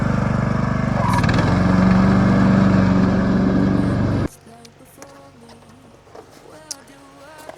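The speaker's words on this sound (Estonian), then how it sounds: "aga mingi sepp ikka niidab kuskil taustal." A lawn mower runs steadily beside a private house, loud and droning for a few seconds before cutting sharply to much quieter surroundings with faint clicks and distant sounds.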